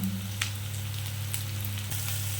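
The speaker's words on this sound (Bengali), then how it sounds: "আমি পেঁয়াজটাকে ভালো করে লাল করে ভেজে নেব" Onions with turmeric sizzling gently in a pan, a soft steady hiss with a low hum underneath and a couple of faint scrapes, nobody speaking.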